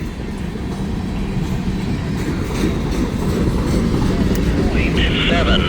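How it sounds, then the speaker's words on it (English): Freight train rolling past a trackside defect detector, a loud, continuous close rumble with steady rail clatter and wheel noise that builds slightly, faint higher squeal near the end. "Front end of that train stripped the defect detector, and we'll wait for it to give the axle count once the train's passed."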